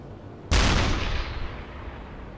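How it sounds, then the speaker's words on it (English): A single deep deck-gun blast from a warship in the submarine game Uboat cracks out sharply, then a long rumbling decay trails away with no voices. "Oh, she's returning fire"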